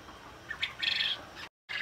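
Penned poultry birds, chickens and pigeons, chirp and call in short bright bursts. The sound is moderately close and broken by a brief silent gap, with no talking.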